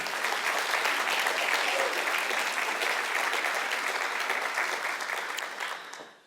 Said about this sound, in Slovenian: Lahko mu tudi zaploskate, seveda.